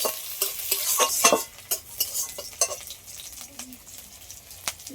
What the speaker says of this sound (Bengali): এগুলো সব একসাথে একটু হালকা করে নেড়ে চেড়ে নেবো